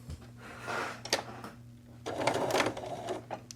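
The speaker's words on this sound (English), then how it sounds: "I'm going to start with a back stitch." A sewing machine back-stitches at the start of a roughly quarter-inch seam in fabric, sounding in two short rattling bursts with a quiet pause between.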